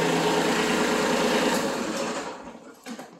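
A Kubota B2301 compact tractor engine running at a steady, loud, buzzing idle close by, then winding down and fading toward silence as it is shut off.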